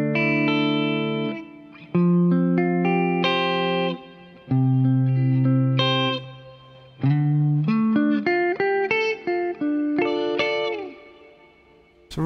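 An electric guitar plays through a pedalboard with reverb and chorus effects, picked single notes and chords ringing with shimmering, swirling tails and gaps between phrases.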